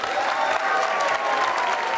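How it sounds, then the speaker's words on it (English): An audience claps steadily for a creator named Corey2U, a dense, even burst of applause from a crowd, close and sustained with no break. "Everybody clap it up for Corey2U."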